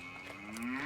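A single short moo from cattle in a countryside field, a clear, fairly near low call lasting under a second.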